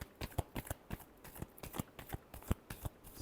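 Tarot cards are shuffled close by in quick, crisp riffles and taps, about a dozen sharp flicks over a few seconds. No voices are heard.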